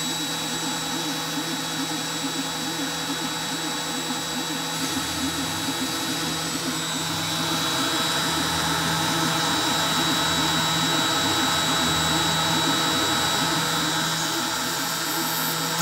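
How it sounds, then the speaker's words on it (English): An MPCNC CNC router spindle whines steadily as the machine cuts stock, a constant high motor drone with a pulsing, rhythmic grind underneath that grows slightly louder partway through. "So let's turn on the router."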